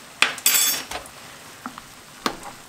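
Chakchouka, a Tunisian dish, stirred in a pot: a handful of sharp utensil clinks and scrapes against the metal, scattered irregularly over a quiet background.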